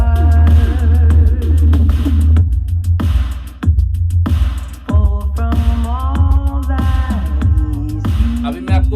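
A boAt Aavante W Bluetooth soundbar with wireless subwoofer plays music at 27% volume, loud and full with heavy low end, continuous apart from a couple of short dips.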